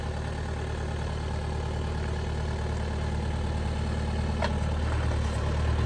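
A 2002 Vermeer V5750 trencher backhoe runs with a steady, loud diesel idle, its engine rumble constant while the outriggers are lowered, with a faint brief squeak near the end.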